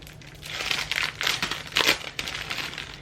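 Close, light crinkling and rustling as an assortment pack of paper stationery is handled, with soft papery crackles in irregular bursts over a quiet room hum.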